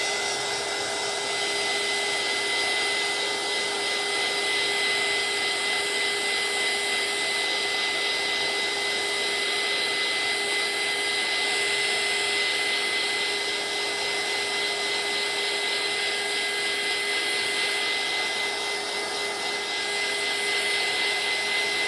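A heat dryer blows continuously over a mixed media journal tag, a steady, even whooshing hiss with a faint whine that holds unchanged throughout, with no talk.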